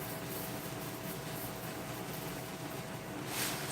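A home air fryer runs steadily in the background of a kitchen, giving a constant, faint whooshing fan hiss with no other sounds.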